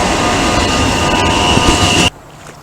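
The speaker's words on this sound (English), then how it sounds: "Choo-choo train, mommy." Loud, steady rumble and rattle of a passing train with a high whining tone, cutting off abruptly near the end.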